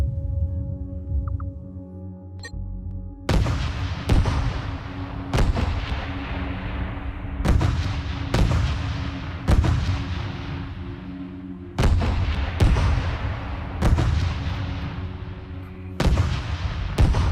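Ship weapons in the space strategy game StarDrive fire as sharp, loud blasts spaced a second or two apart, each trailing off in a long decaying rumble over a low engine hum.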